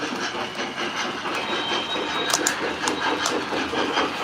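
A smoking model MOW (maintenance-of-way) train runs along a layout, giving a steady, even rolling rattle with faint clicking and a few brief hissing bursts, fairly close and without talk.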